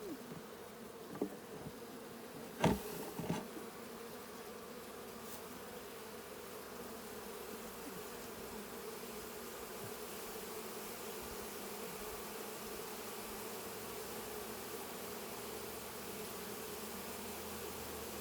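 Honey bees buzz inside a hive box after being separated from their queen, a steady, dense drone filling the whole stretch, with a few brief knocks near the start and no talking.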